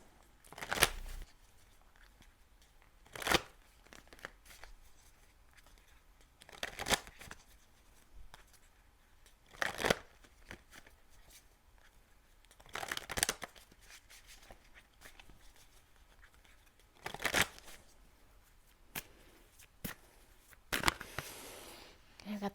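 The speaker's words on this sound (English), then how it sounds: "let me give you an animal spirit card" Animal spirit oracle cards shuffled by hand in repeated bursts of riffling and flicking, close and crisp, with quiet pauses between each burst and no talking over them.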